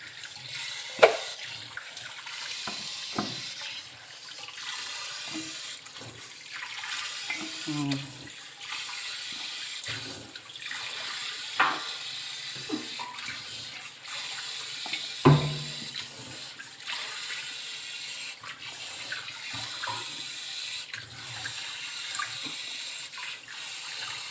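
Running tap water splashes steadily over peeled potatoes being washed in a kitchen sink, a continuous hiss with occasional knocks and splashes from handling the potatoes, close and fairly loud throughout.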